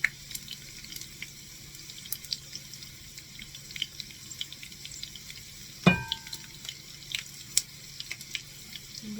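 Tempura-battered green beans frying in oil give a steady bubbling sizzle with scattered pops and a sharper clatter midway, close and continuous, without talk.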